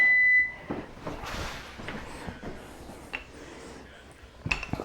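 A kitchen timer beeps at the start, a short electronic tone cut off fast, followed by clatter and handling noises of a home kitchen during bread baking.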